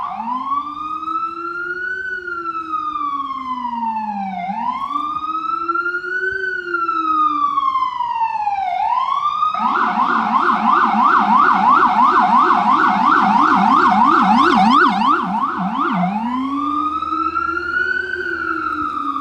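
Emergency vehicle sirens wail continuously and loud at close range, a slow rising-and-falling wail giving way mid-way to a rapid yelp pattern, then returning to the slow wail.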